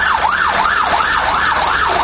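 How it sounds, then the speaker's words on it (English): An ambulance siren wails in a steady rising and falling cycle as it passes through queuing traffic near a bridge in Catford. The siren is loud over a low road rumble, and nobody speaks. "There we've got an ambulance going by."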